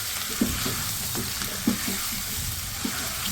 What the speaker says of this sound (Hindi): इनको थोड़ा सा करती हूँ मैं ऑयल के साथ फ्राई।